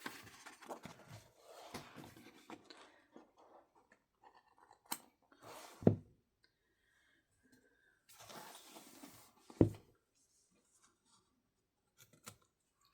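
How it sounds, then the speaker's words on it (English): Scissors snip away excess washi tape stuck to the back of a coloring page, giving a few sharp, separate cuts between quiet stretches, close and fairly clear with faint handling rustle in between. "I washi tape the back of the page that I'm doing, and then I cut off the excess."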